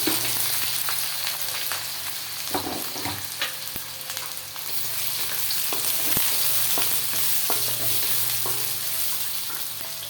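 Onions for a beef tripe curry fry in hot oil with a continuous close sizzle, punctuated by irregular scraping and knocking as they are stirred in the pot, with no talking.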